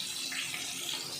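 Tamarind juice poured into a pan while making tamarind pulihora, a brief steady splashing pour, quiet and close.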